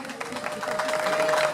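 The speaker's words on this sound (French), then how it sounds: "sous vos ovations s'il vous plaît" An audience at a sports academy award ceremony applauds the Sim U17 team, clapping swelling from light to fuller, with a voice speaking over it at first.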